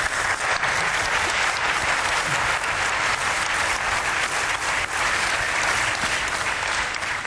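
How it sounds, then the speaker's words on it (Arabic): An audience applauds loudly and continuously after a recitation of a poem about Jerusalem, dense clapping filling the hall at a steady level from start to finish. "لقد صفق لك الجمهور كثيرا"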